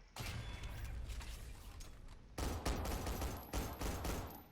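Rapid semi-automatic gunfire in the top-down shooter SYNTHETIK 2, dense strings of sharp shots in two loud bursts separated by a brief pause, with no talk.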